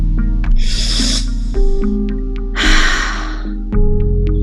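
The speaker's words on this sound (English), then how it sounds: "while breathing out, make that ha sound" Two forceful, breathy exhalations, each a loud rushing "ha" release, separated by a pause over a low steady hum.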